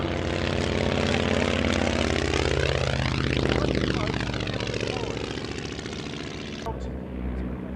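A propeller aircraft at an evening air show passes overhead, its engine drone rising in pitch as it approaches and falling as it moves away, loud and sustained, then fading near the end, with a commentator talking over it.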